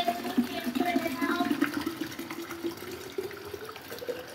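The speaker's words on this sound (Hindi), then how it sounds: "मैं फरा तफरी में इसकी बोतल में पानी डालूंगी" Water is poured quickly into a bottle, a steady splashing gurgle with a rising fill tone, close by, with someone talking over it.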